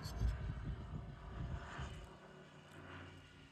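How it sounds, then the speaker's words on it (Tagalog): A propeller airplane drones overhead outdoors, a faint steady low rumble that slowly fades with no talk. "Mayroong eroplano."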